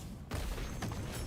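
Gunfire in the action game Where Winds Meet, a sharp burst near the start followed by dense, rumbling shot noise through the rest of the short moment, fairly faint overall.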